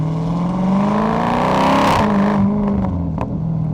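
A 2023 Dodge Charger Scat Pack Wide Body's engine revs loudly and close, a steady deep roar that swells and then eases off.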